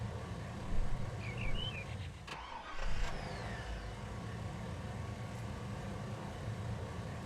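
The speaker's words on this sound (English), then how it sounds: "So I'm gonna start up my car." Car engine in the Farming Simulator 19 video game, a steady mid-range motor drone running throughout with a couple of brief louder swells near the start, heard alone without talk.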